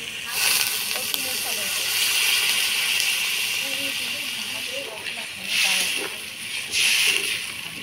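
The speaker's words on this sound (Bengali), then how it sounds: "আলু মটরশুঁটি দিয়ে মশলার সাথে ভালো করে কষা নিলাম, এবার জল দিয়ে দেব।" Water poured into a pan of sizzling spiced potatoes and peas sets off a loud, steady steaming hiss that swells in bursts, with faint voices in the background.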